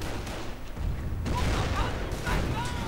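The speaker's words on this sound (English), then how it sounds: "Nebelwerfer rockets firing, but hitting nothing" Nebelwerfer rockets fire in a WWII strategy video game: a rumbling barrage of booms and whooshing launches overlapping in a dense, continuous battle din, with faint higher streaks passing through.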